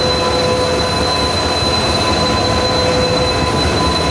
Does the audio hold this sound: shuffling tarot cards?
no